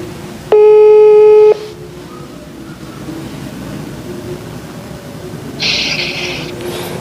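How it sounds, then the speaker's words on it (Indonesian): A single loud ringback tone sounds for about a second as a phone call is placed, followed by steady line hiss and a faint higher tone toward the end. "Kita telepon langsung Pak Erlan ya."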